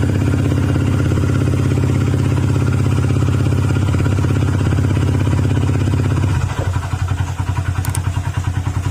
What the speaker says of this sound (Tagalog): ayan na yung tunog ng makina mga sir